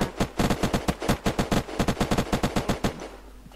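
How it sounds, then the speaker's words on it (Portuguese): Rapid automatic gunfire from the video game Unturned, a dense string of about twenty sharp shots in quick bursts that stops abruptly near the end, loud and close with no talk over it. "Mano, quem é o demente que tá atirando,"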